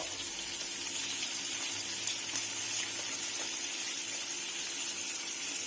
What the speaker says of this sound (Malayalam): ഞാനിപ്പോ സവാള ഇടും